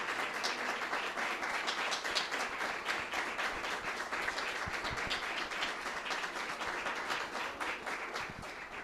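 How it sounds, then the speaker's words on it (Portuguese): An audience at a Catholic Life in the Spirit church seminar breaks into sustained, fairly dense applause that continues steadily for several seconds, heard from a moderate distance in a reverberant hall. "Eu queria que você aplaudisse. Aplaudisse Jesus Cristo como Senhor e Salvador de sua vida."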